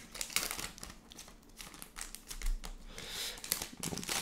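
Pokémon Generations booster packs being unwrapped, with repeated close crinkling and crackling of foil wrappers in irregular bursts, fairly quiet and without talking.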